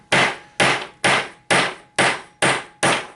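An 8-ounce hammer taps a primer into a .38 Special cartridge case, seven sharp, evenly spaced whacks about half a second apart, close and clear with nothing else behind them.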